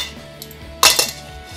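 A spoon or fork clinks against a bowl of thick oatmeal cookie dough with raisins and M&M's: a single bright scraping clatter, close and fairly loud, followed by a couple of softer taps against quiet background.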